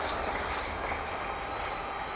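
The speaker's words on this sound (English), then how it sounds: "Oh, there's a freight train going by." A freight train rumbles past nearby, steady broadband noise of rolling rail cars without clear wheel clacks, no voices.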